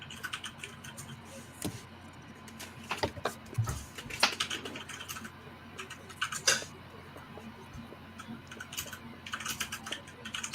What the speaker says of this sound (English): Someone's doing some aggressive typing.